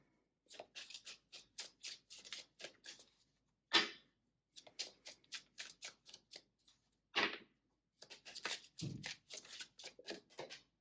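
Tarot cards are shuffled in quick repeated bursts of crisp riffling and flicking, close and quiet, with short pauses between runs and no voices.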